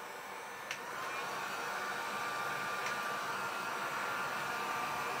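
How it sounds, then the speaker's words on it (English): A super-hot heat gun drying ink on a t-shirt blows with a loud, steady hiss and rush of air that holds constant, with a faint click or two near the start. "And I'm using my heat gun, which is super hot."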